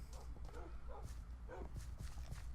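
Dogs barking in a video game base, several quick yaps and barks repeating in bursts over a steady background hum.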